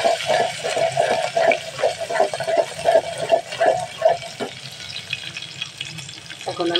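Crushed garlic hitting hot oil in a pan while potatoes, yardlong beans and shrimp are cooked, giving a steady close sizzle with pulsing crackle and a few stirring scrapes, no talking.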